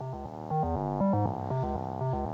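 A Ruby-coded synthesizer plays a fast stepping sequence of short buzzy notes through a resonant Moog-style low-pass filter, giving a squelchy techno tone, fairly quiet and with no voices.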